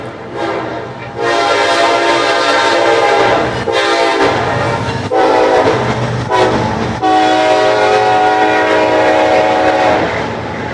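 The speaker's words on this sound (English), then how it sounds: "that was the freight train" A freight train rolls past close by, loud and continuous for about ten seconds, a heavy rumble with its horn sounding in long blasts and no talking.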